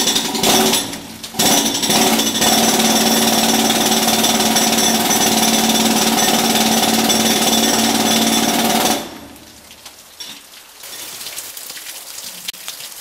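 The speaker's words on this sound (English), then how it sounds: "I've got the jackhammer tip stuck in the" A jackhammer breaks rock continuously and loudly at close range in a cave for several seconds, then cuts out, leaving faint clatter and scraping.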